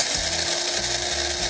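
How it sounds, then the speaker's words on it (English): A pepper grinder works through four-season peppercorns, a mix of black, white, red and green, with close, loud, repeated ratcheting crunches as the mill is twisted back and forth. "Now I'm grinding down peppercorns, and these are 4-season peppercorns"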